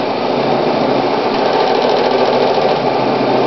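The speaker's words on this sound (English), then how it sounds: "taking it to your largest zigzag stitch. And just sewing back and forth" A sewing machine runs a wide zigzag stitch back and forth, a steady, loud, continuous mechanical whir that holds close and even throughout, with no talking.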